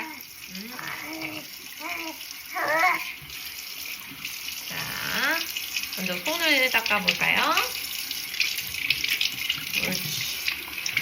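Tap water running into a sink while a baby is washed, a soft continuous splashing stream under an adult's talk and a baby's babbling.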